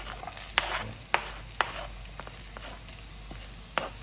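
Onions sautéing in a pan for chicken paksiw give a steady, close sizzle, broken by several sharp clicks and scrapes from stirring.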